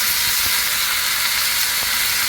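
Mint leaves sizzling in a hot frying pan with lightly browned coconut, a steady close, loud crackling hiss of frying with no talking.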